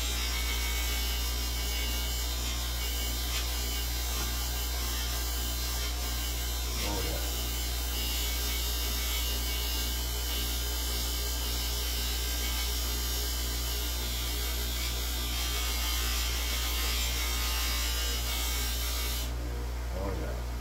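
A motor-driven buffing wheel polishing the shank of a freshly stained tobacco pipe, a steady loud electric hum and whir with brief rubbing swells as the wood meets the wheel, a voice talking over it at times.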